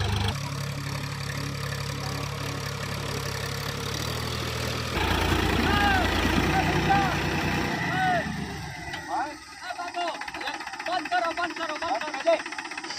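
A tractor engine runs steadily while ploughing a farm field, a mid-pitched idling drone that shifts partway through; people talk over it.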